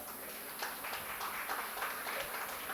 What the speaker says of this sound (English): Parents, I need a huge round of applause.